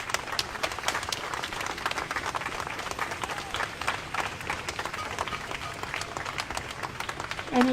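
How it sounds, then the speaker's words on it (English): Crowd at a street march for justice applauds in dense, sharp, fairly distant clapping that lasts several seconds, with a brief noise at the very end. "Let's give her another round of applause"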